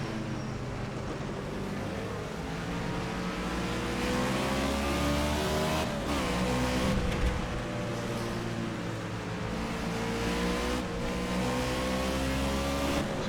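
A race car engine roars at Road America during a HORL Friday night heat race, close and loud, climbing through the revs with brief dips at gear shifts.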